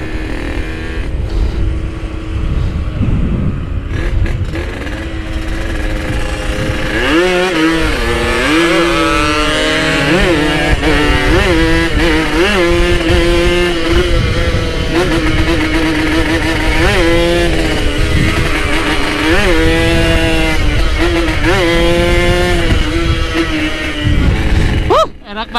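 A Yamaha RX-King two-stroke motorcycle engine revs repeatedly, its rising and falling buzz loud and close throughout, with people talking over it.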